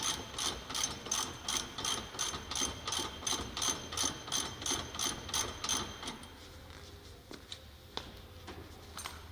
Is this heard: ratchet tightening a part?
yes